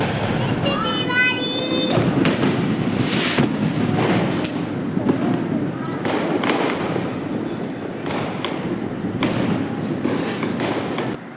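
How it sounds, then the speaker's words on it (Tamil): A flower pot firework set off for Diwali bursts in a steady, hissing shower of crackles and pops that continues loudly for several seconds nearby. "இப்போ நான் வைக்கிறது ஒரு விதமான ஒரு ஃப்ளவர் பாட் மாதிரியே இருந்தது"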